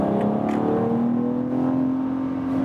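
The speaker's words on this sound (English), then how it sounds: "And one more overtaking for today" A BMW X4 M Competition accelerates while overtaking uphill, its engine a steady, loud rising drone heard from inside the cabin, with no one speaking.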